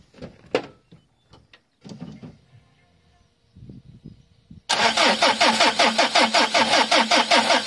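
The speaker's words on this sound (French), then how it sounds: "déjà le démarreur il a pas un beau bruit, c'est un peu ça qui me fait penser à lui" A car's starter motor cranks the engine with a rough, unhealthy sound: loud, fast, rhythmic cranking pulses start partway through and run to the end, after a stretch of quieter knocks and handling noises.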